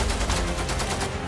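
Sustained gunfire during an armed attack on the Pakistani army in Balochistan: a dense, loud, continuous fusillade of rapid shots with no pauses or voices.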